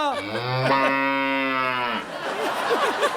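A buffalo moos as a comedy sound effect: one long, loud, drawn-out bellow that bends in pitch. It fades into a faint murmur of background noise.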